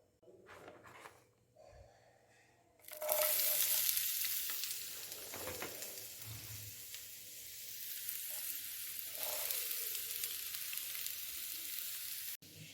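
Sliced onions and small tomatoes dropped into hot oil for mutton curry, a sudden loud sizzle that settles into a continuous close frying hiss after a quieter start.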